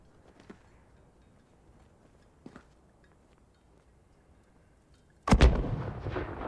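Enemy mortar fire in Call of Duty: Modern Warfare: a few faint distant thumps, then one loud, close blast with a long rumbling tail near the end.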